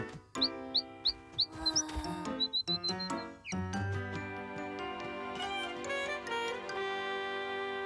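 A small bird in a children's cartoon gives a series of short, bright chirps at the start, followed by cheerful music with tinkling notes, with no speech.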